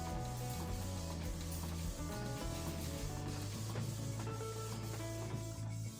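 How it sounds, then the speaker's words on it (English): An inkjet printer running a job on double-sided glossy paper at reduced quality, with a steady mechanical whir and rhythmic carriage passes, fairly quiet and continuous throughout with no talking. "I reduced the quality and tried to print them again to see if they would look a little bit better"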